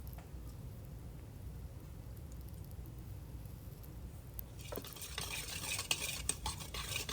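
Dry ingredients with a tablespoon of poppy seeds being mixed in a bowl, a soft continuous rustling that turns into brisker scraping and clinking near the end, quiet and close, without talk.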